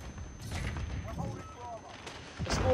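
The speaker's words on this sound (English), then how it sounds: "they're shooting at me, help" Gunfire rattles in Call of Duty Modern Warfare during a Domination match on Shoot House, with short bursts and scattered shots, a louder burst near the end, and voices talking under it.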